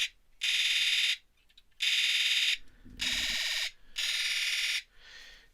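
Radio Shack Astro Magnum Galactic Man toy emits its electronic Magnoid sound: four loud, shrill buzzing alarm-like pulses, each about a second long with short gaps between them, followed by a fainter fifth burst and a brief low thump.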